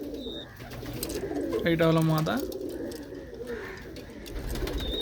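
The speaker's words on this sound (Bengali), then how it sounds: "সব আমার মেন ব্রিডার পায়রা।" Teddy breeder pigeons cooing close by, one clear descending coo in the middle with softer bird sounds around it, while a person talks over them.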